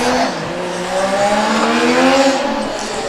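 A driverless Formula Student race car's engine roars and revs up as it accelerates away on a track, loud and continuous, pitch rising then easing as it pulls off.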